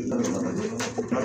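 A pair of high-quality pigeons, kept in cages on a pigeon farm, coo in soft, throaty murmurs, close by and with no talk.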